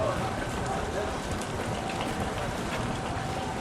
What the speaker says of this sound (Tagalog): Medyo maulan talaga, guys.